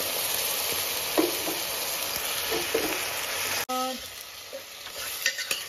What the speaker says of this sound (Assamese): এইখিনি ভালকৈ লৰাই দিছোঁ